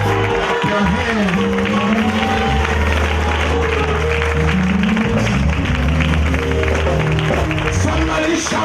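A church congregation claps along during a lively sermon, the steady clapping blended with crowd noise and a loud, continuous organ-and-bass musical backing throughout.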